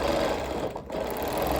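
Sewing machine stitching fast during free-motion quilting of a quilt's center, a continuous loud mechanical hum with a brief dip midway before resuming steadily, no voices.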